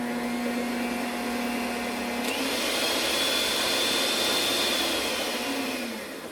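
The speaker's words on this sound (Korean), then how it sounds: "이렇게 움직이면 믹싱을 시작하면 볼이 빙글빙글 돌아가면서 더 잘 섞일 수 있도록 해줍니다" A Kenwood stand mixer runs with its bowl spinning as it mixes, giving a steady, close motor whir with a constant hum that holds evenly throughout and eases off slightly at the end, with no talking.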